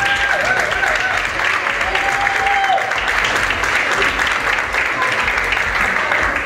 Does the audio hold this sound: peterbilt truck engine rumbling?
no